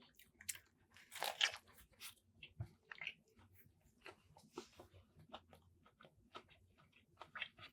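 Close, crunchy bites and chewing of a thick-patty restaurant burger, a loud crunch near the start followed by softer irregular chewing sounds in a quiet setting.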